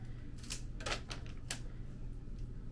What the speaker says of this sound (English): I'm gonna snip off, since it's been a while and my vase is a little shorter, a few inches off of here.